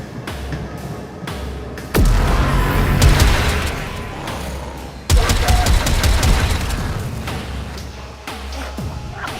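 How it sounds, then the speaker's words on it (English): Grenade launchers firing in the video game Warframe, a dense barrage of explosive booms and rapid gunfire bursts, with two especially loud, close blasts amid continuous sustained fusillade. "Gotta love the grenade launchers."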